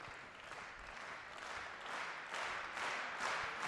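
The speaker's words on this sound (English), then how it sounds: "the crowd is cheering for Waldner" Crowd applause ripples through the hall at a table tennis match between Waldner and Jiang Jialiang, a steady wash of many hands clapping that swells slightly in later moments, somewhat distant and moderately loud.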